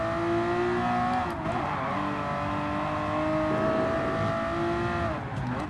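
A race car engine in GT Sport roars loudly and steadily, its pitch climbing through the revs and dropping at each gear change before rising again, with no talking over it.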